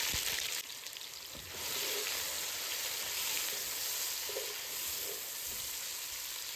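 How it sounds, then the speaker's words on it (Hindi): Three onions frying in about three ladles of oil in a pan, left over from frying chicken, for a chana dal pulao. A steady, soft sizzle and crackle goes on throughout, with no talking. "उसकी 3 कड़छियाँ भर के एक पैन में डाल के 3 प्याज फ्राई कर लिए।"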